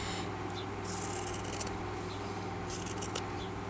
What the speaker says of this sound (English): I'm going to have to cut this off so I can see what I'm doing now